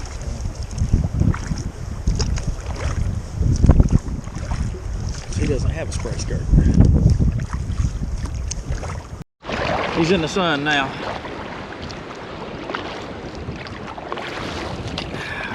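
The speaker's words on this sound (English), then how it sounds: "We're still fighting the waves." A canoe on the Yukon River battling big waves, with water slapping and wind buffeting the microphone while people talk over it; the sound shifts abruptly partway through to a closer, splashier wash.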